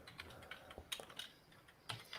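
A computer keyboard is typed on during a live interview, giving faint, irregular clicks of keystrokes with brief pauses between them, quiet and distant.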